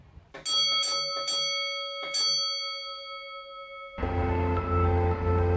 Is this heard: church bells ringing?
yes